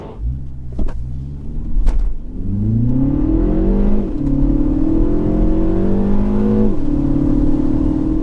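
A Mini Cooper S engine revs hard and accelerates continuously from 0 to 60 mph on a wet road, pitch climbing through several gear changes, loud and close throughout.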